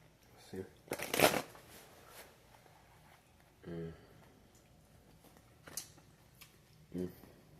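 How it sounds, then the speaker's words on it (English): Close, quiet riffles of cards being shuffled in a few short bursts, the loudest near the start, separated by pauses and soft murmuring. "Just 2 shuffles, maybe 3."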